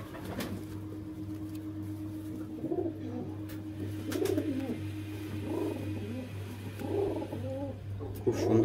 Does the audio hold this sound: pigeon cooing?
yes